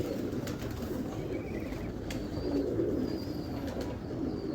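Pigeons of fancy breeds coo in soft, low murmurs against a steady background hum, with a few faint higher chirps and brief clicks scattered through.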